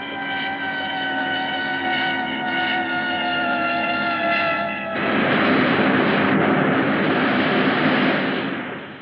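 A spaceship engine roars through a power dive as a 1956 sci-fi film effect: a steady droning whine with stacked tones gives way midway to a louder, rushing broadband roar, sustained throughout with no speech.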